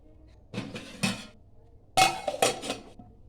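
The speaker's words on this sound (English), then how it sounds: "Now we will keep lid on it" A metal lid clanks onto a pot of boiling onion gravy, a few separate clattering knocks in two clusters, close and clear with no talk.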